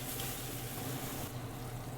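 Mushrooms sizzling in a frying pan for a Hawaiian loco moco, a steady close hiss and crackle running the whole time with no talk.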